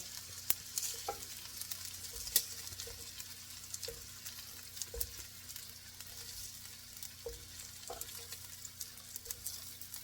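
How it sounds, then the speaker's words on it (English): Onions frying low in a skillet, a quiet steady sizzle with faint scattered clicks and pops, distant and soft. "I'm going to put my onions in here"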